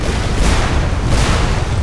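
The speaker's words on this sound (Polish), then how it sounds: "te jedne wybuchają" Rumbling explosions from the Magicka video game, a steady dense roar of booming blasts lasting throughout, loud and close with no talk over it.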